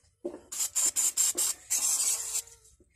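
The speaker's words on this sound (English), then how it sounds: "There's some rust dissolver." Rust dissolver is sprayed from an aerosol can onto a broken vise in about seven short hissing bursts, the last one longer, close and fairly quiet with no talking.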